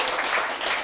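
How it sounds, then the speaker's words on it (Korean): An audience applauding at a talk, a brief dense wash of many hands clapping together, steady and moderately loud, with no speech over it. "박수!"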